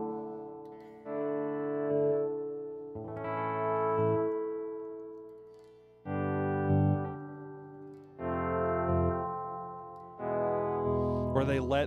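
An electric guitar plays slow volume swells through reverb and delay pedals: a series of sustained chords fade in and ring out with long trailing tails, each swell rising smoothly, with no one talking.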